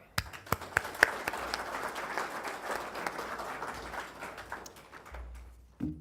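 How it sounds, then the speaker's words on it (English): A room full of people breaks into a round of applause at a car wash industry gathering, dense clapping that swells with a few sharp claps near the start and then fades away. "So round of applause for Buck."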